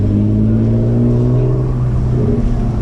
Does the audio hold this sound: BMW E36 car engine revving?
yes